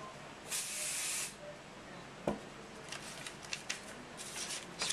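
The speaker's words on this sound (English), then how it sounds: "So I'll just spray that." A spray can misting onto paper during landscape art work gives one steady close hiss under a second long, followed by a few light taps and rustles.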